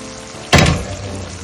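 A pan of chicken fry on the stove bursts into a loud sizzle as the lid comes off, starting abruptly and then settling into a softer, steady frying hiss.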